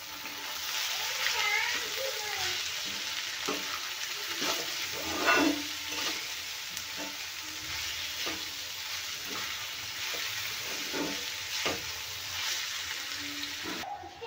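Chopped onion and ivy gourd (tondli) fry dry in a pan without added water, making a constant close sizzle broken by repeated scraping stirs of a spoon.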